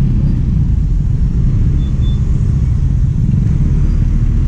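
A 2024 RUSI RFI 175 Fi maxi scooter rides through traffic, giving a steady low engine drone and road rumble close up. The sound stays even, with no voices.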